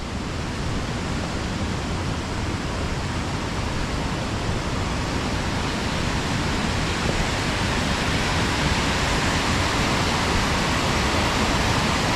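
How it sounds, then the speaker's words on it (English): Rushing river water churns into white froth below the Force waterfalls, a loud, steady, unbroken roar that fills the whole stretch with no voices. "you can hear the water racing along here towards where the bridge is"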